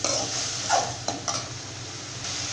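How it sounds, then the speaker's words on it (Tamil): Raw banana pieces sauté in a pan for sambar, giving a steady close sizzle with a few soft scraping stirs over the continuous frying hiss. "இப்போ வந்து காயை வந்து நல்லா அந்த மாதிரி வதக்கிக்கலாங்க"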